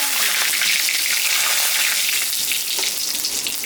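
Dried chilli, cumin, cardamom, cinnamon and bay leaf fry in hot oil over leftover potato-frying oil, a bright continuous sizzle and crackle that stays loud throughout, with faint stirring beneath.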